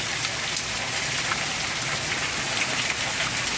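Torrential rain pours down in a dense, steady hiss on outdoor surfaces, loud and unbroken, with no voices.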